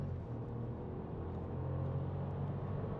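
Skoda Fabia 1.0 TSI with DSG gearbox accelerating hard from a standstill, heard from inside as a steady low engine drone that swells slightly, fairly quiet and continuous with no talk.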